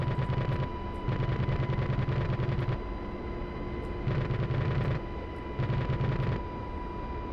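Guns on a UH-60L helicopter fire in four rapid bursts in DCS World, each a dense rattling roll over the constant drone of rotors and engine.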